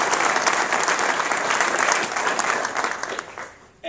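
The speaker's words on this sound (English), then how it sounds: "please join me in applauding her contribution" An audience at a NASA agency award ceremony applauds steadily and fairly loudly, dense clapping filling the hall before tapering off near the end.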